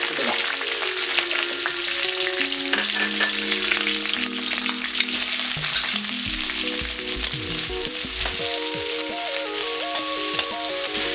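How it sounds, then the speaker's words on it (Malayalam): Onions, green chillies and curry leaves sautéing in hot oil for a Kerala-style tomato fry, a continuous loud sizzle close by with stirring scrapes, while tonal background music plays underneath. "ഇത് ഒരു ലൈറ്റ് ബ്രൗൺ നിറമാകുന്നത് വരെ വഴറ്റുക."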